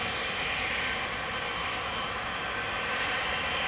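A Qatar Airways jet departs Amsterdam Schiphol, its engines making a sustained broad roar that stays steady and fairly loud throughout, with no voices.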